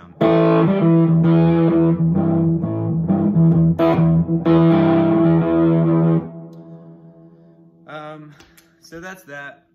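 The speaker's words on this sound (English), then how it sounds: "Straight fuzz sound." A loud guitar through a fuzz pedal strums chords for about six seconds, then fades into quieter, sparse picked notes.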